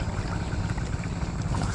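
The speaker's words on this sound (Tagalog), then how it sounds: "Nakaminor lang yung makina ng mga katong, kasi mahirap pwersahin yung makina nun" A small motor boat's engine idles at low throttle, giving a steady low droning rumble with water noise, continuous and fairly close, without talk.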